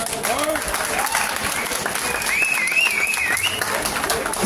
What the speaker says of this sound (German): Das ist ein kräftiger Applaus wert, oder?